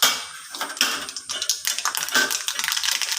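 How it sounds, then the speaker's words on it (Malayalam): Rapid, irregular crackles and pops of mustard seeds spitting in hot oil, close and fairly loud, with no talking. "കടുക് പൊട്ടിയിട്ടുണ്ട്"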